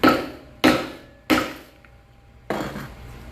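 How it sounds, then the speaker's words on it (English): A hammer taps a frozen, brittle bouncy ball four times at an uneven pace, each strike a sharp, close, hard knock with a brief ringing decay. "Let's get a little tap with hammer, should we?"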